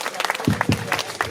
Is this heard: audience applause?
yes